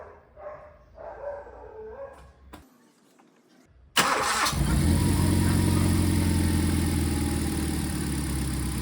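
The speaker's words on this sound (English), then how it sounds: "let's start this car and check how much voltage drops on this battery" A car engine cranks and catches abruptly, then settles into a loud, steady idle, started while the battery voltage is monitored; faint rustling and a soft bark-like sound come before it.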